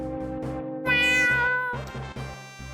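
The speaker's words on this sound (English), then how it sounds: "Just a lousy cat." A cartoonish cat meows in the Final Fantasy VI video game, one drawn-out, close meow over looping chiptune game music.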